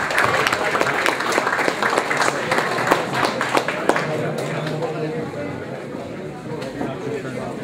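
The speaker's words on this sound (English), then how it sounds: "You can give yourselves a big round of applause," Round of applause from a room of attendees at an awards night, individual claps distinct and uneven, with voices chatting over and around the clapping as it thins out.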